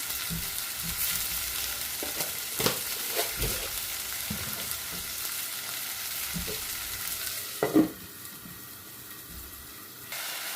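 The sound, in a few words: onions and tomatoes sautéing for brinjal curry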